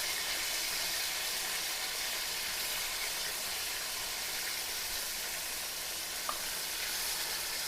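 Marinated chicken shallow frying in oil for chicken dum biryani, a dense, continuous sizzle with a steady hiss that runs throughout the clip, with no talk.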